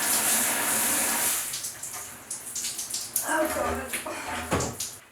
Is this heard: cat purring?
no